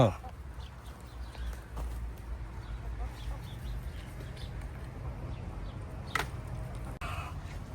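Egg-laying chickens on a small farm in Italy cluck and murmur at close range over a steady low farmyard rumble, with a few sharper calls breaking through.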